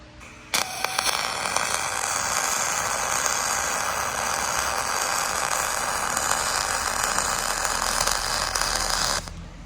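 Steady, loud crackling buzz of a YesWelder DP200 MIG welder laying an aluminum bead, running continuously for about nine seconds from an abrupt start to an abrupt stop, with the torch traveling forward and then coming back to fill the weld.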